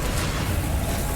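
A Reductor spell blast in the video game Hogwarts Legacy, a dense, rumbling explosive roar that stays loud and steady through the whole moment.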